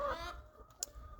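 Chickens cluck in a backyard chicken run, a brief close burst of fowl calls with a sharp squawk near the end over low outdoor rumble.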